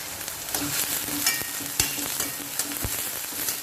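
Onions frying in a pan for a mutton and cucumber curry, a steady dense sizzle heard up close with a few sharp pops and stirring clicks scattered through, no talking.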